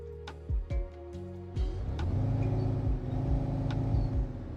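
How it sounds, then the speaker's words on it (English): Bus engine in the OMSI 2 driving simulator starts up in a car park with a few low thumps, then settles into a steady, loud idling drone with tonal hum and mechanical rattle. "You can hear the bus?"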